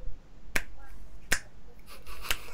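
Three separate crisp finger-snap-like clicks meant as a one-handed clap, evenly spaced under a second apart, close and sharp with faint background noise between.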